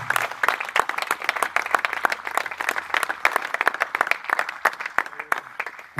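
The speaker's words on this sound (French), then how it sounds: "Acclamons encore pour elle" An audience applauds a singer at a live performance, dense continuous clapping from many hands, close and steady throughout.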